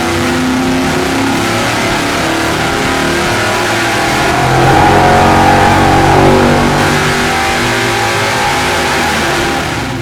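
An engine with a Dart top end kit makes a nitrous run on race gas, holding a loud, sustained, raspy roar that swells in the middle and then eases, with no talk.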